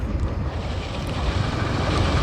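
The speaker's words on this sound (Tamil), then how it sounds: "காற்று வேறு அடிக்குதே." Strong wind roars and buffets continuously, a low rumbling rush close to the microphone with no voices.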